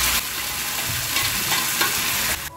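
Butter with kasuri methi and garam masala frying in a pan, a steady close sizzle lasting throughout with scraping stir strokes at intervals and no talking.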